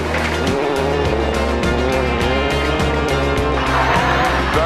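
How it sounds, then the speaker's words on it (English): A rally car, a Mark II Escort on a stage of the 2004 Circuit of Ireland Rally, roars past at speed. Its loud, high-revving engine climbs and drops through gear changes, with the sound passing close by. "the BioClear car clears the stage 2nd fastest"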